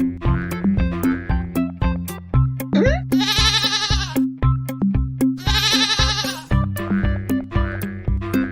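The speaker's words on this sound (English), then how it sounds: "Spot that goat." A goat bleats twice in long, wavering cries between steady rhythmic music or clatter, loud and close, with no talk over it.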